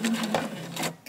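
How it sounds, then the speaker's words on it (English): A sewing machine locks a stitch in thrifted leather: about a second of close, rapid mechanical whirring and stitching chatter. "So I'm going to lock the stitch in."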